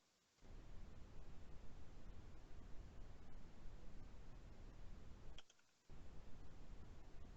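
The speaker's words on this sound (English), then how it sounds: "I apologize for my loud keyboard" Rapid clicking from a loud computer keyboard runs steadily, close and fairly strong, broken by one short pause before starting again.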